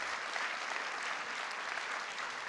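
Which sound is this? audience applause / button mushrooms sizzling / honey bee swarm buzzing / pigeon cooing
audience applause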